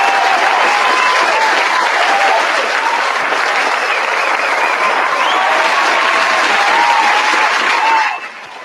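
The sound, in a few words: audience applause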